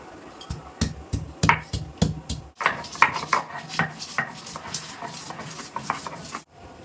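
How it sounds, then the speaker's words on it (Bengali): Ginger and green chilies being ground together into a fine paste for a vegetarian raw banana kofta, a run of sharp rhythmic grinding strokes followed by quicker scraping, close and fairly loud with no voice. "এটাও আদা আর কাঁচা লঙ্কাটা মিহি করে বেটে নেবো"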